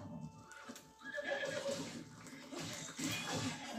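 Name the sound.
horse neighing and galloping, from a video game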